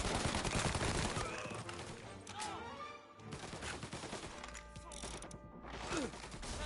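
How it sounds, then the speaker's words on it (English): Gunfire in the video game Mafia Definitive Edition, dense overlapping shots in a rapid fusillade with a brief lull midway, loud and sustained over game ambience. "Reports of gunshots rolling in."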